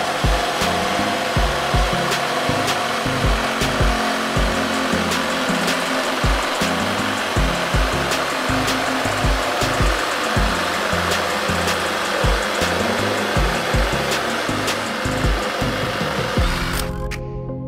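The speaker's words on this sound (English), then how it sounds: "Cross-cutting a clean 2x12 was no problem for either of the saws." Metabo and Milwaukee FUEL reciprocating saws cross-cut a clean 2x12 board, giving a loud, continuous buzzing rasp with a rapid back-and-forth rhythm for about seventeen seconds until the cut finishes.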